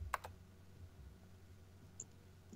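Keyboard typing from a video game set in a lab, heard as a short burst of quick clicks near the start and one faint click later, with no voices.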